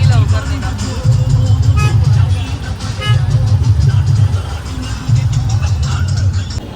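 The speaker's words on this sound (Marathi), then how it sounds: "असं असतं हे ट्रॅफिक कधीही निघा की" City road traffic streams past, with car engines rumbling and surging in loud, close waves and a steady background hum.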